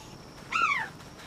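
A bird in the Palworld video game lets out a single short descending call, clear over quiet background hiss.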